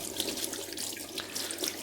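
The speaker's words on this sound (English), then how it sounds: "let me wash my hands" Water runs steadily from a kitchen sink tap as hands are washed during scone baking, a continuous close hiss and splash with no voices.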